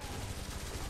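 Machine gun fire in the WWII strategy game Blitzkrieg 3 during an airborne paratrooper assault, a dense, muffled rattle of rapid shots mixed into steady battlefield noise, brief and continuous.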